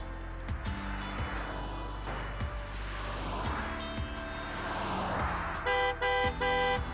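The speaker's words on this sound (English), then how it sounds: "Oh god, the traffic noise." City traffic from the Cities XXL video game: a steady roar of simulated cars with faint horn toots, then several repeated electronic beeps or honks near the end, with no voices.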